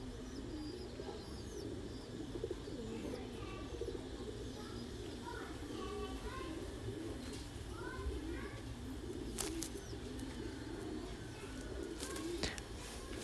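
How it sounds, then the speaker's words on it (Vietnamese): Thai Titan meat pigeons coo repeatedly from rows of farm cages, a steady layered chorus of soft low calls with occasional brief chirps, continuous throughout under a faint murmur of background voices. "Đây, bồ câu ti tan thái siêu thịt."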